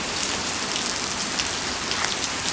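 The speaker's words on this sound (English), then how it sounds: "I wish you could see how rainy it is." Heavy rain pours down in a steady, dense hiss of drops striking surfaces, continuous and close throughout, with no voices.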